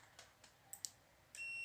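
A multimeter continuity tester on an LG TV circuit board gives a few short, faint electronic beeps, then a steady high-pitched tone sets in and holds at the end, with no voices.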